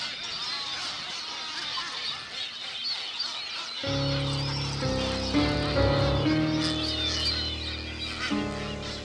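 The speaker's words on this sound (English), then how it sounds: "The gannets form breeding colonies here in the Galapagos Islands" A breeding colony of gannets in the Galapagos Islands gives a dense mix of honking and squawking calls, first alone and then under a narrating voice and music.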